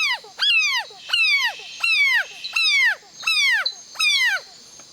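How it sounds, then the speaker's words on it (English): A frog's defensive scream call, loud and close: six harsh, sweeping cries come in a steady rhythm, each about half a second long, with brief gaps between them. "that's the call they make in defence, and it's literally to startle whichever predator is feeding on it."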